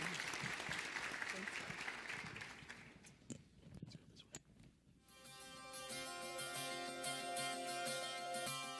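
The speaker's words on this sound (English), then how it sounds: "let's give one more round of applause for our panelists, Aaron, Kyra, and Vivian" Audience applauds panelists at a school program event, a full round of clapping that thins into scattered claps before music takes over halfway through.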